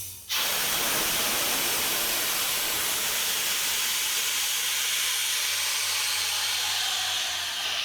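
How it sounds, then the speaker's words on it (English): Clemco blast machine nozzle blasting air only with the abrasive switched off, a sudden loud, steady rushing hiss that starts abruptly and holds unbroken close by, with a faint low hum underneath. "you'd just be blasting with air"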